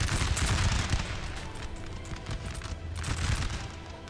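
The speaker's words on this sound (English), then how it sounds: "they're firing at the second rank of Swedish troops" Musket volleys from massed infantry in Napoleon: Total War, a dense crackle of overlapping distant gunfire rolling continuously across the battlefield at moderate loudness.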